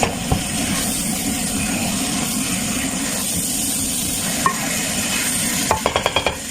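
Chicken frying in a pan with curry powder, black pepper and paprika while being stirred, a steady close sizzle with scraping, ending in a quick run of utensil taps against the pan.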